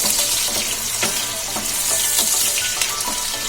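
Onions shallow frying in hot oil in a pan for a mutton potato fry, a continuous close sizzle with bright crackling pops and a few scraping stirs, no voices.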